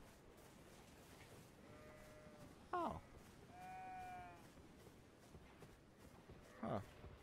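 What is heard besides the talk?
sheep bleating in video game Elden Ring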